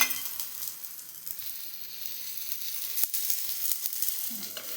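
Thalipeeth sizzles on an oiled griddle with a continuous, close frying hiss and a few sharp crackles toward the end.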